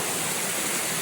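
Water from a waterfall inside a cave in Decorah, Iowa rushes in a dense, loud, steady roar, heard close and alone for about a second.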